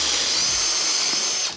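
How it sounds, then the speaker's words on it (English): A power drill bores a hole through IKEA furniture, a steady high whine holding for about a second and a half close by, then winding down at the end. "Okay, and then I'll drill a hole right here."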